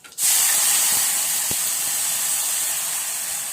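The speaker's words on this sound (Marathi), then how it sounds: "पाणी घालायचे।" Water poured into a hot cumin tempering with salt, for a winter millet-flour ghata, gives a sudden loud, steady hiss and steam rush that starts almost at once and carries on evenly with no talk over it.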